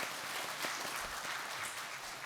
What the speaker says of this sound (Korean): 주님께 영광의 박수 한번 다시 한번 더 올려드릴까요